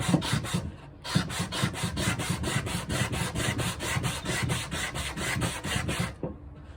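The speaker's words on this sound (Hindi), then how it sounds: "तो हम इसको पहले सूखा घिस लेते हैं" Dry hand sanding of polyester body filler on an iron surface with 120-grit sandpaper makes a steady, rhythmic rasping of quick back-and-forth strokes that runs loud and close for about five seconds before stopping.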